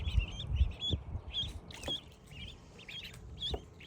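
High, repeated peeping calls from ducklings sitting by a pool, in short bursts with faint low thumps and rustling underneath, fairly close.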